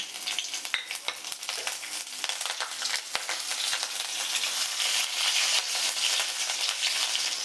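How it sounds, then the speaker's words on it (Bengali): Nigella seeds and slit green chillies crackle and fry in hot oil, a loud busy sizzle punctuated by repeated sharp clicks of a spatula stirring against the pan, with no talking. "ফোড়নটা একটু নাড়াচাড়া করে ভেজে নিলাম"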